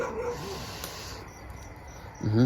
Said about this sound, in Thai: หมาก็เห่าเหลือเกิน